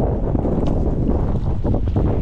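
Strong wind roars and buffets at a seaside fishing spot in Dampalin, with rough waves churning beneath in a loud, continuous rush.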